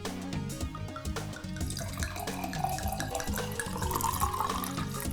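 Homemade beetroot wine pours steadily into a vessel, its liquid splash rising slightly in pitch as it fills, set against a steady musical backdrop.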